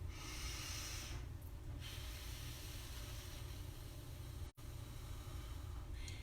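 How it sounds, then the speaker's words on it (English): A child's breath drawn in through the nose and blown out, soft hissing airflow swelling twice, once early and once briefly near the end, faint and close. "We're gonna inhale through our nose and we're gonna blow out your birthday candles with you."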